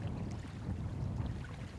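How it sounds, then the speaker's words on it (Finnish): A strong south wind buffets the microphone while a canoe is paddled across a wilderness lake in Finnish Lapland, producing a continuous low, rumbling roar with no voices. "aika kova etelätuuli vähän kiusaa mua."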